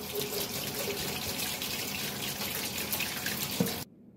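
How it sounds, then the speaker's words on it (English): Tap water runs steadily over hands at a sink, a continuous close hiss of splashing water with a brief bump near the end before it cuts off abruptly. "Now we're going to wash the hands."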